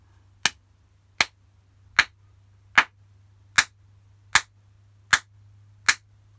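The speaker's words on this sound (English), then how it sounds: "if I did a steady clapping rhythm, with just four, so that just means there's four beats in a bar" Eight sharp, evenly spaced hand claps at a steady four-beat pulse, close and dry with silence between, over a faint low hum.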